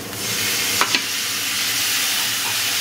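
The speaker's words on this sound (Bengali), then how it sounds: "যেহেতু শুকনো মশলাটা দিয়েছি এই জল দিয়ে একটু কষে নেব" Dry ground spices fry in a pan after a splash of water is added, giving a constant close sizzle with a couple of quick scraping stirs early on.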